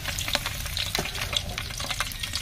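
Whole spices frying in a large pot of hot oil for a big batch of bagara rice, a steady close crackling sizzle with scattered sharp pops throughout and no talking.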